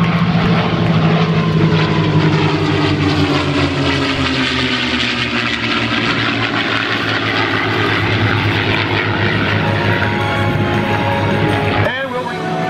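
P-51 Mustang fighters with Merlin engines roar overhead at an air show, a loud throbbing propeller drone that sweeps in pitch and swells past, with a crowd and announcer faintly beneath.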